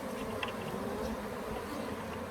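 Africanized hybrid honeybees hum in a steady, close, dense buzz at an open top bar hive while a European queen is introduced, with no pauses across the whole stretch.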